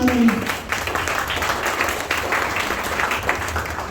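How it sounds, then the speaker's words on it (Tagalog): A church congregation claps during a pastor's sermon, a dense patter of applause that starts loud and then stays steady, with a voice heard briefly at the start. "O isa pang palakpak para yun"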